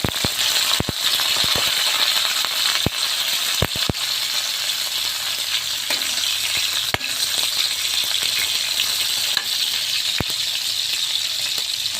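Onions sizzle steadily in a hot pan after garlic, a dense crackling hiss with occasional sharp clicks of a utensil against metal.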